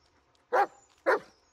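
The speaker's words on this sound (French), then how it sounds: "Écoutez ses aboiements et soyez attentifs à ses gestes." Two sharp, close dog barks from a companion dog in the horror video game Blair Witch, spaced about half a second apart against near silence.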